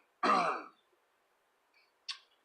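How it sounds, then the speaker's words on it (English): Someone clears their throat once, a loud rough rasp up close, followed after a pause by a short softer throaty sound. "Pardon me while I clear my throat."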